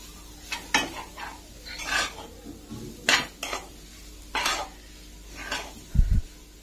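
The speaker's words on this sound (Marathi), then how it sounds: "छान परतून घ्यायची, व्यवस्थित परतून घ्यायची, कारण तिखट मीठ सगळीकडे लागलं पाहिजे." A spoon scrapes and clinks in a pan while jackfruit vegetable is stirred and sautéed with chilli and salt, several separate bursts of metallic scraping over a faint background hiss, close by.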